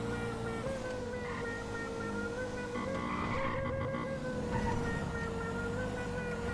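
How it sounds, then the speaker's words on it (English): A police car siren in a video game wails steadily and continuously under a dense engine-like drone, moderately loud throughout with no talking. "Be sure to cycle your siren."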